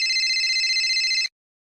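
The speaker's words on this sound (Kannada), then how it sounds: "ಅಷ್ಟೊಂದಿಂದ ಫೋನ್ ಬಿಡ್ಕೊಂಡೈತೆ," An unanswered telephone rings with a steady, bright electronic ringtone that plays continuously for just over a second, then cuts off abruptly into silence.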